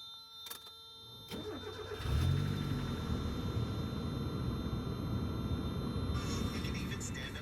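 A 1990 Mazda Miata engine cranking and catching, then settling into a steady, close idle hum with a faint high whine; a few clicks come before the start.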